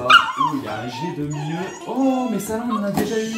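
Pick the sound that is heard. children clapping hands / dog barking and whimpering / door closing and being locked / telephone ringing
dog barking and whimpering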